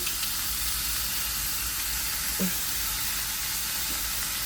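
Minced garlic and onions fry in a pan with a soft, steady hiss and sizzle, close and fairly faint, with an occasional small clink of utensil.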